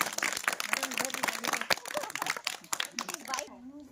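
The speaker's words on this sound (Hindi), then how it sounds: "ताली बजाइए" Schoolchildren clap together in a classroom, a burst of quick, uneven hand claps with brief voices mixed in, tapering off near the end.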